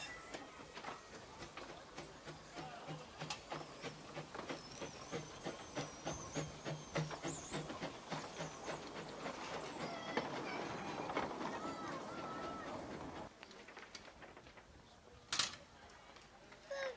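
Preserved UK steam locomotive on a small heritage railway in the early 1990s, running with a steady rhythmic chuff and hiss that builds, then a sharp burst of escaping steam near the end.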